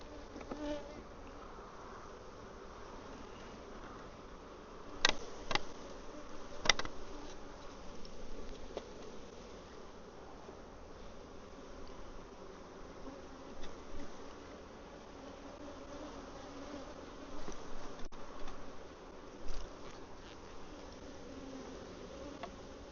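Honey bees buzz steadily around an opened hive during a hive split, as a soft continuous hum with a few closer, louder passes drifting by.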